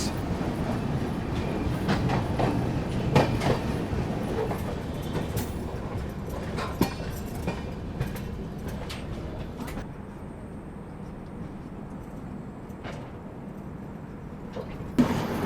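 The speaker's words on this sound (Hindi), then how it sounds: "क्या स्पीड में निकली है भाई अपनी फरक्का एक्सप्रेस" Farakka Express train rushing past at speed, a loud steady roar of wheels with rhythmic clickety-clack beats from the carriages, fading somewhat toward the end.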